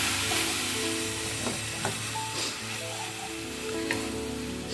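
Fried cauliflower being tossed with Schezwan sauce in a pan over high heat, a steady close sizzle with scraping stirs and a few metallic clinks.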